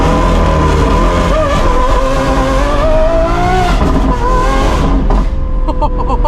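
Lamborghini Aventador SVJ with a Gintani F1 exhaust doing a launch-control start, its engine screaming loudly as it climbs through the revs in a sustained roaring pull, then dropping off sharply near the end, very close and dominant.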